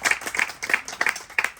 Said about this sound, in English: I want to just give him a round of applause